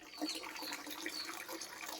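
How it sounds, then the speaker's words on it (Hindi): Clear spring water runs steadily into a stone kund at the Chausath Yogini site in Manerі, a soft continuous trickle and splash, close and moderate in level, with no voices. "और निर्मल जल इसी कुंड से आता रहता है 12 महीना"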